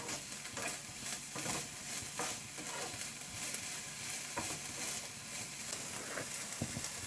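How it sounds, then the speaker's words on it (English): Bacon and spring onion being stirred together in a frying pan, steady sizzling under repeated scraping and tapping of a utensil against the pan. "And spring onion, mix with bacon just about 30 seconds."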